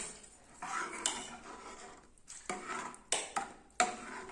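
A spoon clinks and scrapes against a bowl while onion-tempered yogurt (tadka dahi) is mixed, a run of soft stirring swishes broken by sharp metallic knocks, close and fairly quiet.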